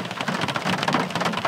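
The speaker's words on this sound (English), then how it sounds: "Just waiting for the rain to ease." Heavy rain pours steadily in the Gwydyr Forest near Betws-y-Coed in Snowdonia, Wales, a dense, close hiss of drops pattering on leaves and ground with no voices.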